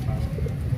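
Kasuri pigeons cooing at a busy pigeon market in Lahore, low soft coos close by over a dense background murmur, with no talk.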